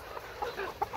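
Chicks cluck and peep in a heated poultry house for rearing laying hens. Several short chirps come at irregular intervals over a steady hum.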